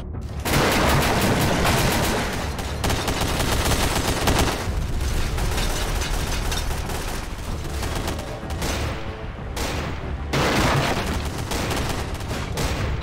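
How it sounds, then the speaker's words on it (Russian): Gunfire in a Garry's Mod game: dense rapid bursts of automatic fire, loud and continuous, with short pauses between volleys and no voices. "Я слышу выстрелы."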